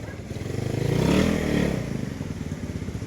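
A motorcycle engine idles smoothly and quietly at close range, with a steady low putter that swells briefly as if lightly revved, while someone speaks nearby.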